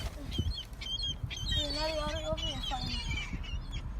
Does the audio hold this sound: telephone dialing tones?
no